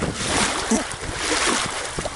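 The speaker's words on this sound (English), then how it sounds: "Waves are rolling out there." A boat pushes through choppy waves on Georgian Bay, with loud rushing water, splashes and wind noise filling the short stretch close by.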